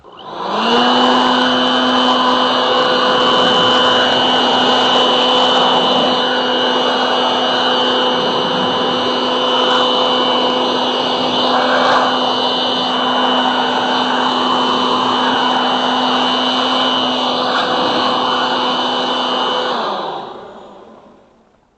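A Turo Super Blower blasts snow off a car with a loud, steady, high-pitched electric whine and rushing air that holds for about twenty seconds before cutting off.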